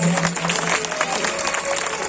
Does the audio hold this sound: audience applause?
yes